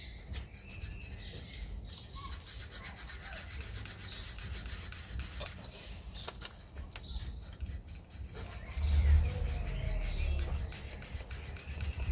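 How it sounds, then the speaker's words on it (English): Old rear ABS speed sensor on an Audi Q7 being wiggled loose from its mount, a steady close scraping and rubbing with a few brief clicks and a louder low rumble near the end, no talking. "now we're just gonna wiggle the sensor a bit"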